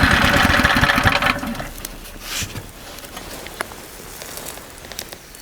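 A Lifan engine running with a rapid knocking chatter, then cut off after about a second and a half, leaving faint outdoor quiet with scattered small clicks and knocks.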